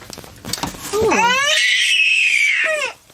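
A child lets out a loud, piercing high-pitched screech that holds for about two seconds before breaking off, with brief voices and noise just before it.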